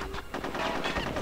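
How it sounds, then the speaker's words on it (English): Enemy gunfire in the video game Conker's Bad Fur Day crackles in rapid repeated shots over a short burst, close and fairly loud with no talk. "Okay, what keeps shooting at me?"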